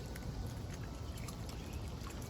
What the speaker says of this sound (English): Here you see the water fountain.